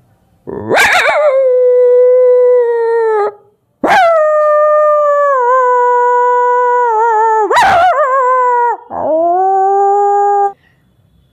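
A voice imitates a dog howling, giving three long drawn-out wailing howls, each starting with a sharp rise and then holding a steady tone. A short fourth cry follows, loud and close.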